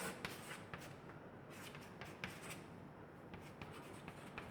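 Chalk or marker writing on a board during a chemistry class, heard as a run of quick scratchy strokes and taps, fairly close and moderately loud, with no one speaking.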